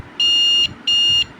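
An NE555 adjustable delay timer relay switch module gives two loud, close, high electronic beeps, each about half a second long with a short gap between them.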